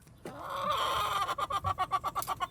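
A hen clucks nearby, a drawn-out squawk followed by a quick series of rhythmic clucks, fairly faint and alone.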